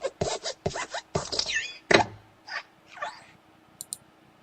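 The Pixar intro lamp hops along in a rapid series of short squeaky thumps and creaks, with one heavier thud midway, followed by fainter warbling squeaks and a few thin high tones, played in a mystery sound guessing game.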